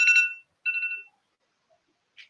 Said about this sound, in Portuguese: Tocou meu despertador aqui.